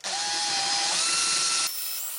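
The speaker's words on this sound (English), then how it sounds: "So first let's drill a hole with a small countersink." A small countersink bit bores a hole, its steady high whine running loud and alone for nearly two seconds before cutting out and leaving a fainter tail.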